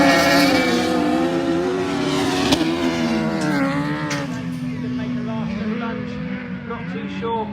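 Autograss race cars roar around the track on the final lap, engines revving and fading as they pass at a distance, while a commentator talks steadily over the noise.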